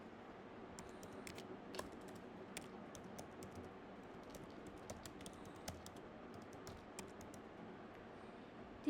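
Quiet, steady typing on a computer keyboard, a run of light irregular key clicks lasting several seconds, close and soft with no voices.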